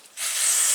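Carb cleaner sprays from an aerosol can onto dump trailer parts, a loud steady hiss that starts abruptly after a brief quiet moment and holds to the end.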